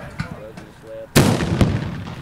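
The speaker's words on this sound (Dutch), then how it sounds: "In 30 karbitbussen werd daar zo'n 20 kilo karbit verschoten." A carbide cannon made from a milk churn fires on New Year's Eve in Friesland, giving one sudden, very loud boom with a rumbling tail after quieter moments of voices and background noise.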